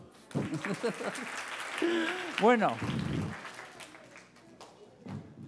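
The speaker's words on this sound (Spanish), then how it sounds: "hay que darle un aplauso" A young audience at a Naukas Kids science talk about brains claps in a short, scattered burst, with a speaker talking over the applause and a high rising voice cutting through the middle.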